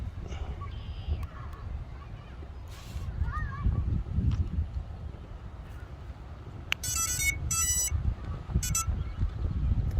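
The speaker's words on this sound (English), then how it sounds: "I'm hoping I get all 4 ESCs to beep." Four drone ESCs beep on power-up, sharp bright electronic tones in short clustered bursts late on, over low room rumble and faint handling noises, with a voice briefly in the background.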